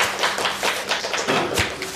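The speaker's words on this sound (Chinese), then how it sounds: "鼓掌通过。" A small group claps hands together in a short burst of quick, irregular claps at close range, fairly soft and lasting only a couple of seconds.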